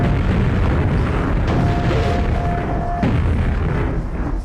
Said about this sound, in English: Three guys shooting grenades at you.